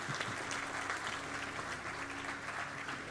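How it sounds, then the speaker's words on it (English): Steady, even applause from a conference audience at an award moment during an inauguration ceremony, a continuous wash of clapping held at moderate level throughout. "Let's give a big round of applause"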